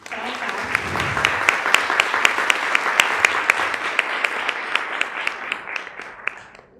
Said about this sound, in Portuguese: Eu gostaria de pedir uma salva de palmas para a Tassi.